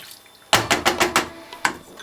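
Water splashes into a pot of Sri Lankan mutton curry with spices and tomato, a burst of loud sputtering and splashing pulses followed by one last splash, up close.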